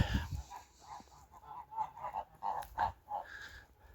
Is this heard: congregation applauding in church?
no